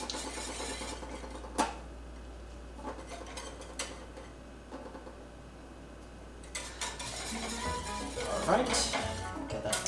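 Spoon stirring hot chocolate in a pot, soft clinks and scraping taps scattered over a quiet kitchen background, faint and close, with a sharper metallic knock near the start and busier clattering toward the end.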